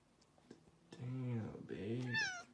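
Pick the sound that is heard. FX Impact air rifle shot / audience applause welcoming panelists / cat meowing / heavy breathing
cat meowing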